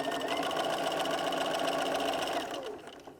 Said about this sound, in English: I'll come to the machine and I'm going to sew those 2 together.